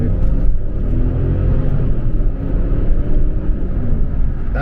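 Mercedes ML500 V8 SUV pulling away hard with transmission kickdown, a deep continuous engine roar and rumble from inside the cabin, steady and loud throughout with no talk.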